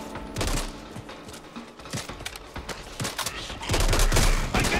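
Rapid bursts of automatic gunfire rattle through a Back 4 Blood co-op zombie shooter match, crackling shots coming in clustered volleys, some close and loud, others lighter, building to a dense barrage near the end.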